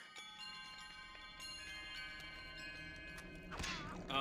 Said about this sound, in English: Once you start getting the wind chimes and everything, that's when things start getting more and more kind of freaky.